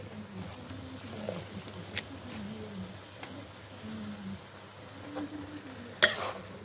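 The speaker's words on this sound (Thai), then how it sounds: "ตอนนี้ผัดเห็ดน้ำมันหอยใส่กุ้งค่ะ" Mushrooms and shrimp stir-frying in oyster sauce in a home kitchen pan, a faint steady sizzle with soft scraping stirs and an occasional sharper clink of the utensil, no talking.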